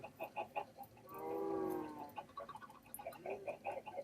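Chickens in a video game cluck softly in scattered bursts, with one longer drawn-out squawk in the middle, faint and fairly close.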